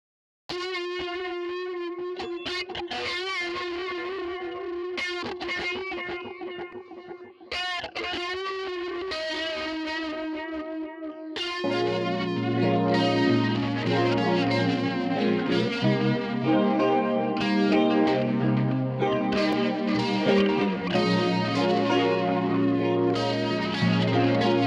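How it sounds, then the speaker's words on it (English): An electric guitar runs through a Fender Bassman amp sim with diode overdrive, a Rox phaser and analog delay, playing swirling, echoing chords. Drums and a bass groove come in halfway and the mix turns fuller and louder. "Fender Bassman amp sim inside of Amplitude, and I put the diode overdrive, the Rox phaser 10, and an analog delay"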